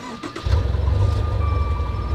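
A car engine running rough with a misfiring spark plug, idling with a steady low, uneven throbbing rumble, close and loud, with a faint tonal whine above it.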